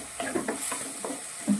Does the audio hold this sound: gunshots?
no